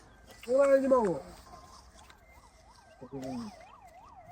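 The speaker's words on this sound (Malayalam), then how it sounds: "ആംബുലൻസ്" An ambulance siren wails with a rapid rising-and-falling pattern some distance away, while voices speak briefly over it.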